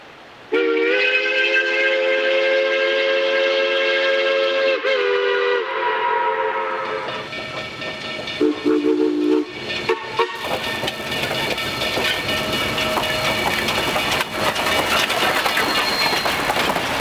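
Steam locomotive 493 pulls away from the Silverton yard in Baker's Park on the Durango & Silverton line, its whistle sounding long and loud with chuffing and mechanical clatter building through the rest.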